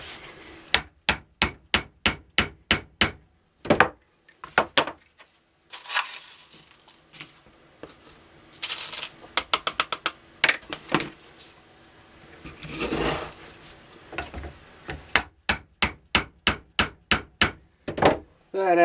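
Charcoal composition rammed into a three-quarter-inch spark gerb tube, rapid rhythmic bursts of sharp close knocks in repeated series, separated by short pauses and softer handling noises.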